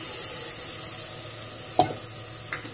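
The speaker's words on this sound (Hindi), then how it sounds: "मुझे अच्छे अच्छे से भून लेना है।" Tomato, chili and garlic paste fries with onions in a pan for dhaba-style chana dal, giving a steady bright sizzle close by. Two brief scrapes of stirring come near the end.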